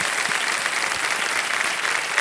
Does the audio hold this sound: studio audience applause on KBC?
yes